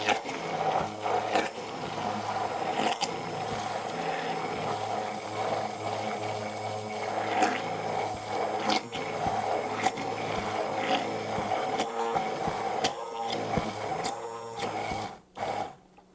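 Homemade mayonnaise with a lot of oil being mixed, giving a steady, close, continuous mechanical whirring and churning with small rhythmic clicks that runs the whole time and cuts out briefly near the end.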